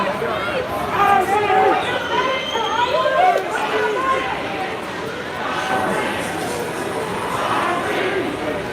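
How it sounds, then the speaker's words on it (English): A large crowd of protesters marches through Portland streets, with a dense murmur of voices and shuffling movement throughout, overlaid by nearby talking. "Large crowd gathering here, actually now marching back"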